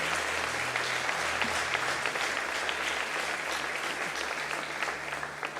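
Church congregation applauding during a sermon, a sustained, dense clapping at moderate level throughout, with a low steady hum underneath and no clear speech.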